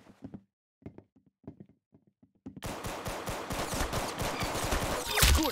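Gunshots in the Roblox game start as a few sparse, sharp knock-like cracks and then break into a rapid, sustained burst of fire, ending with a louder blast.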